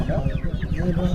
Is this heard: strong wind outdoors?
no